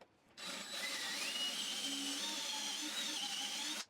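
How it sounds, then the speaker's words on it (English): A power drill bores a pocket hole through pine with a pocket hole jig, a steady, moderately quiet whirring grind lasting a few seconds before stopping abruptly. "use this little jig to drill a hole"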